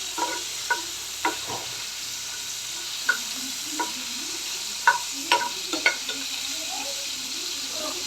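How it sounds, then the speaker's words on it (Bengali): Shrimp fry in a pan with a soft, continuous sizzle while a utensil turns them, making scattered light scrapes and taps over several seconds. "আমি একটু উলট পালট করে নেব চিংড়ি মাছগুলা"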